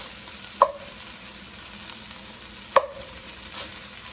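Italian sausage and cauliflower florets cook in a pan with a quiet, steady sizzle. Two sharp utensil clicks against the pan stand out over it, and no one speaks.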